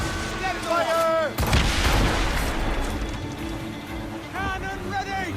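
Warship cannons fire in an Assassin's Creed Rogue naval battle, a heavy boom near 1.4 seconds rolling into sustained rumble, with shouted crew voices and tonal game sounds over the din.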